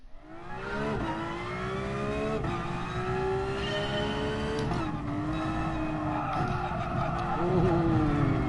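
A Porsche N500 race car in GT Sport roars through corners with rising and falling engine pitch, gear changes and repeated tire squeals and skids, loud and continuous throughout.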